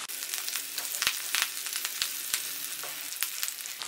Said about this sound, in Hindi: एक तरफ से अच्छे से फ्राई हो चुकी है तो दूसरी तरफ से भी कर लेंगे